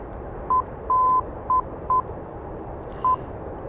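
An ILS tone in the DCS World flight simulator beeps in short and long pulses, Morse-like, over a steady cockpit engine rumble, fairly clear and close with no voices.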